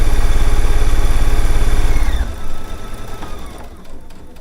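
A sewing machine runs its needle through a quilt sandwich, giving a steady, close mechanical hum with rapid stitching pulses that stops after about two seconds, leaving quieter room sound.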